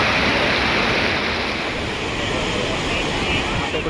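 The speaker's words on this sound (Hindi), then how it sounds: "ये देखिए गंगा की लहरें कितनी बढ़िया चल रही हैं" Waves on the Ganga river at night in Haridwar make a steady, loud broadband wash, continuous and close with no clear breaks.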